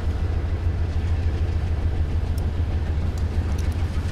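Train rumbles along steadily in Rails Unlimited, a loud, dense low-end drone of rolling wheels and engine with faint high clicks scattered over the top.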